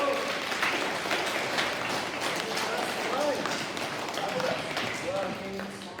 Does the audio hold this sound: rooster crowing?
no